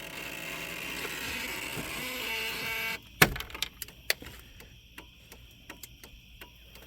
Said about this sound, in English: It was the blinker relay waking up.